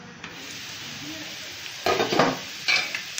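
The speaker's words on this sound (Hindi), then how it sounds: "बीच बीच से हम इस तरह इसे चलाते रहेंगे ताकि सब जगह इक्वली ये रोस्ट होना चाहिए।" Spicy potatoes roasting in a covered pan over a medium flame give a steady soft sizzle, broken by two short bursts of scraping as a spoon stirs them, with no talk.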